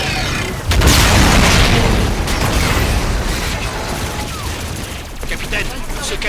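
Loud, dense bursts of gunfire and booming blasts in Call of Duty: Infinite Warfare fill the scene continuously, with a sudden heavy surge near the start and rattling shots throughout.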